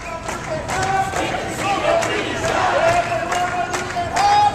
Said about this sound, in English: I'm prepared to say this crowd is somewhere between 100 and 200